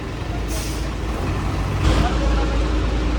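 A large truck arrives and brakes, with two sharp hissing air-brake bursts over a steady low engine rumble close by under an overcast sky.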